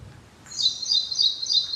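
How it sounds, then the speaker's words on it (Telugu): A small black bird chirps in bright repeated bursts after eating grain put out in the morning, the calls close and clear over a quiet background. "అక్కడ ధాన్యం పెడతామన్నమాట, వచ్చి మార్నింగ్ తిని ఆ సౌండ్ చేసి వెళ్తాయి."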